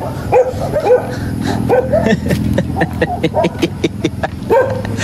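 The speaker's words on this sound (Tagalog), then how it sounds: "Lumapit ang aso." Several dogs bark and yip in short, irregular bursts close by, with a steady low rumble and some voices underneath.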